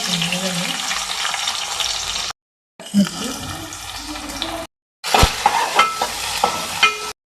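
Onions frying in oil for a gongura and dried fish curry, a steady broadband sizzle that continues across cuts, with scraping stir noises and a brief splash of water in the last section.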